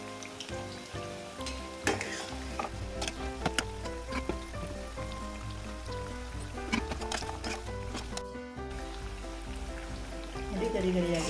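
Chana dal vada (Kannada kadle bele vade) frying in hot oil, a steady dense sizzle with scattered crackles and pops running throughout at moderate, close level, with brief louder bursts and a swell near the end.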